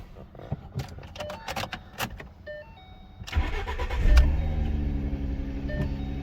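A 2011 Ford Mustang Convertible, totaled and under repair, starts up: keys jingle and clicks sound first, then the engine cranks and catches into a loud, steady idle.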